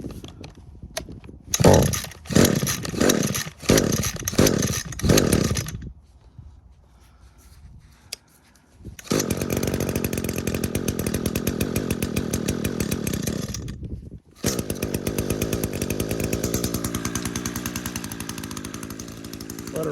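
An Echo string trimmer's small two-stroke engine, just repaired after being dropped, sputters through several pull-start attempts, falls quiet, then catches and runs at a loud, steady buzz close by, with a brief cut-out before running on.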